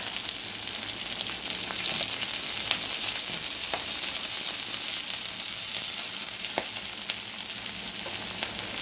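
Green chilies and curry leaves sizzle in hot oil for masale bhat, a steady, close crackling fry with scattered sharp pops and no talk.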